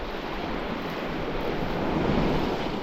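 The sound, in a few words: wind blowing on the coast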